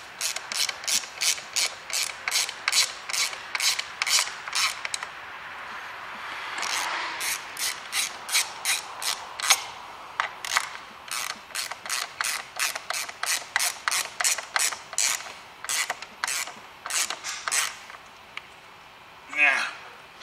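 A ratchet tightens the seat bolts back down inside a 2010 Ford Fiesta diesel during a garage service. Rapid close metallic clicking comes in repeated strokes with brief pauses, over about twenty seconds.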